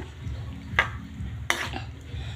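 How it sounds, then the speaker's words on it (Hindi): Potatoes stirred into cooked masala in a pan, with a low background hum and two sharp scraping clinks of a spoon against the pan. "हम आलू डाल देंगे, आलू डालने के बाद अच्छे से मिला लेंगे।"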